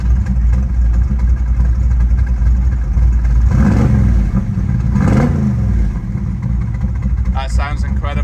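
A Ford Mustang Shelby GT500 Eleanor sits in park with a loud, steady engine rumble close by and a couple of brief revs to around 2000 RPM, followed by a voice near the end.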